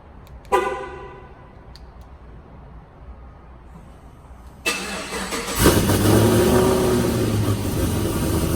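A Pontiac G8 GT cold start: a click and brief crank, a short pause, then the V8 catches with a loud rising rev that settles into a strong, steady fast idle close by.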